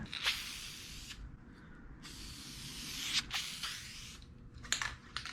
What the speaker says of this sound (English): I'm spraying some wrinkle paint over the primer.